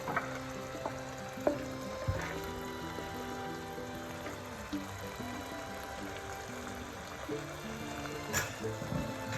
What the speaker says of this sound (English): I'll be putting in my beef. Then I'll be putting in my prawns.